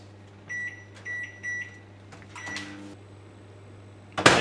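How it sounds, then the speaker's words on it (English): A steady low electrical hum of a microwave oven running, with several short beeps in quick succession and a clatter near the end. "we're gonna put that in microwave"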